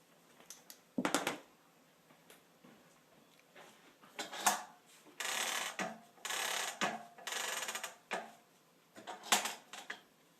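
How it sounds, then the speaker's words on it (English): Mechanical rolling and rattling bursts come in several spaced runs as a longarm quilting machine advances a quilt up onto its take-up roller, fairly close with quiet gaps between. "So I'm just going to advance my quilt."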